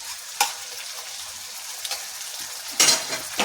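Garlic, chili and nigella seed paste fried in oil, heard as a low sizzle broken by several sharp spatula scrapes and clinks against the pan, close by, with no voices.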